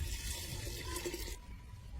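Water poured into a clay pot holding about half a kilo of lime, mixed for treating a mango tree, makes a steady splashing, gurgling rush that runs close and loud, then drops off sharply near the end.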